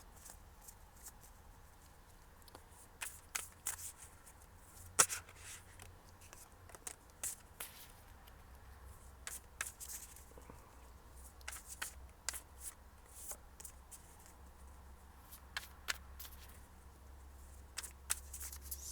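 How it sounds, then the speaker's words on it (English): Tarot cards are shuffled by hand in a quiet room, with soft repeated riffles and slaps and an occasional sharper snap, continuing for a long stretch with no talking. "So let me just shuffle a little bit more."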